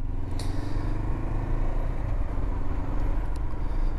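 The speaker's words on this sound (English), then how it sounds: "Hello, car. That was unexpected" A car passes by on a dirt road, heard from a Honda CB500X motorcycle as a broad rumble that blends into the bike's steady engine and wind drone throughout.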